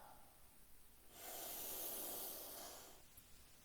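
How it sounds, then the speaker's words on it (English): A loud breathy exhale during a breathwork session, a sustained hissing rush of air lasting about two seconds after quieter breathing, close to the microphone. "Breathing out with sound."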